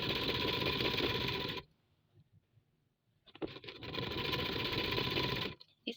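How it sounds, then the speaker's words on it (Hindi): A sewing machine stitches elastic into a trouser hem in two loud, steady whirring runs split by a quiet pause, with faint handling noises between and at the end. "सारे में ऑल राउंड में हम स्टिच लगाएंगे।"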